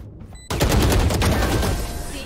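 A Valorant match in which an Operator sniper rifle fires a sudden loud blast after a quiet moment, followed by dense, sustained gunfire that roars on without any talk.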